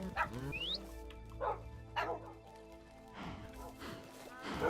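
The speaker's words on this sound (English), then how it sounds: "So he's got loads of guard dogs." Guard dogs in modded Minecraft 1.12.2 give a series of separate sharp barks and yips spaced across the stretch, fairly close and clear over a low game hum.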